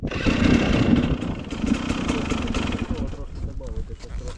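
A KOVI 300 Pro 2T two-stroke enduro motorcycle engine starting and running at idle close by, a steady, busy, rattling drone that fills the whole stretch, with voices talking over it.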